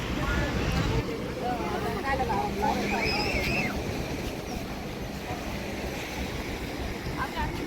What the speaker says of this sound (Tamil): Nora head beach.